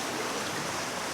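Monsoon flood water on a river rushing around bridge columns, a dense, steady broadband roar with no pauses or voices.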